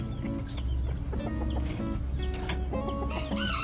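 Japanese Chabo bantam chickens clucking and calling steadily at close range, with several overlapping bird voices and a brief louder squawk, over a continuous low background hum.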